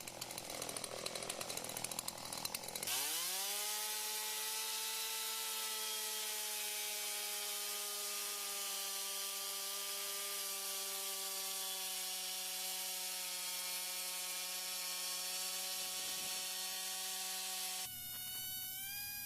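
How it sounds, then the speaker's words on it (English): A small chainsaw revs up and cuts steadily through a log, its loud, close engine whine holding a constant pitch for about fifteen seconds before dropping off at the end. "The contrarian in me wanted to use this little chainsaw deliberately, just because everybody says you can't"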